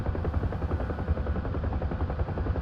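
A Huey helicopter slows for landing in the DCS flight simulator, its rotor thumping in a loud, steady, rapid chop over a continuous engine roar.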